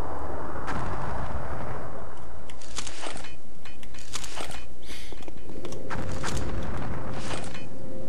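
Explosions in the Jedi Knight video game on the Nar Shaddaa level, a series of several sharp blasts with rumbling tails recurring every second or so over a low background roar, with no talk.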